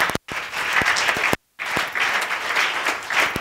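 Church congregation applauding during a Pentecost service, a dense sustained clapping that fills the space, broken by two brief silent gaps.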